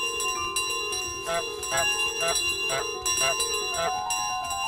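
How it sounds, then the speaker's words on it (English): A bell in Untitled Goose Game, rung by honking, rings repeatedly in a steady rhythm over a sustained tonal background, each strike clear and moderately loud. "if I honk, it rings the bell."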